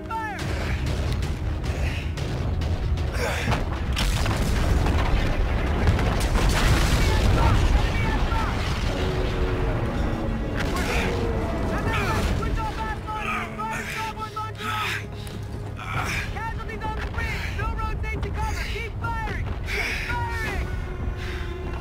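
Heavy gunfire and booming explosions in a Call of Duty Infinite Warfare battle, dense continuous rumbling blasts and bursts, loud and close, with voices shouting over the combat.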